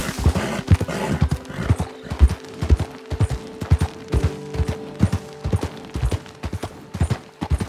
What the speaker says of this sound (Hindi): घोड़े को लेके ना पहाड़ पे सही से चढ़ना है